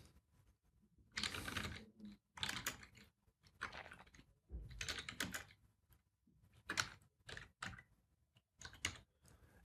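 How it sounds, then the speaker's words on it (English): Quiet bursts of typing on a computer keyboard, rapid clusters of key clicks separated by short pauses, close and fairly soft with no talking. "And we're going to type in the artist name."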